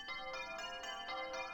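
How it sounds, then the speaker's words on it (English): The Bell of Gold rings in the game Eastern Mind, sounding as a rapid series of bright, evenly spaced metallic chimes with rich overtones, about six strikes in quick succession at a steady, moderate level. "play the Bell of Gold"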